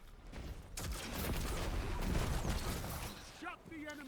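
Spread cannon gunfire in a Destiny-style PvP shooter match, a dense burst of blasts and booms that fills most of the moment, loud and close, with a player talking over the action.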